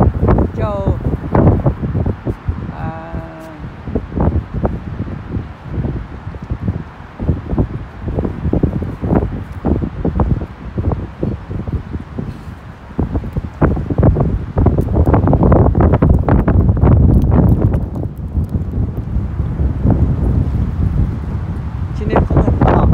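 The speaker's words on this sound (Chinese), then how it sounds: "今天风很大" Strong sea wind blows along the Atlantic coast, loud gusts battering the microphone in uneven bursts that swell and ease, while people talk over the roar.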